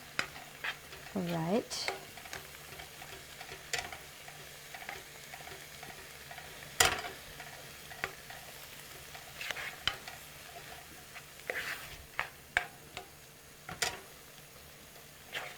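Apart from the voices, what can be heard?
sautéing bean dip in a pan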